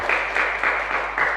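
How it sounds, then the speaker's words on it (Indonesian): A classroom of students applauds two presenting groups, a brief, even patter of many hands clapping in a room with a low steady hum beneath. "Beri tepuk tangan kepada kelompok 2 dan 4."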